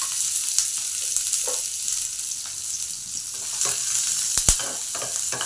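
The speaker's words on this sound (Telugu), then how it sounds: "1 ఆనియన్ వేసుకుంటున్నాను. ఒక 1/2 స్పూన్ ఆయిల్," Chopped onion frying in a little oil for a fish curry, a steady close hiss of sizzling with occasional stirring scrapes and a sharp clack near the end, no voices.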